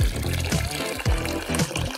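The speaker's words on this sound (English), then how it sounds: "Now for the hot water!" Hot water poured from a carafe onto a giant tea bag, a short splashing, gurgling pour in several quick bursts, close and moderately loud, with no speech.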